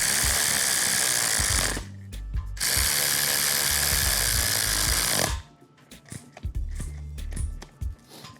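Engine bolts with orange thread sealer tightened in a crisscross pattern, two long bursts of rapid ratchet clicking close by, then quieter scattered tool clatter and handling noises.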